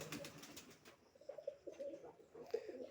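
Pigeons in a pigeon loft give low, soft cooing calls in a steady run of short phrases, with a few louder coos near the end and light rustling early on; the birds sound close but quiet.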